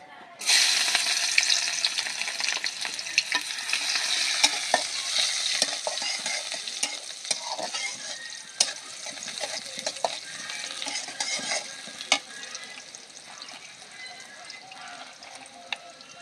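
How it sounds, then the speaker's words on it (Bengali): Onion sizzling and frying in a pan while being stirred, a continuous bright hiss with frequent scraping clicks of the spoon, loud at first and easing slightly over time. "প্রথমে দিয়ে দেবো পেঁয়াজ"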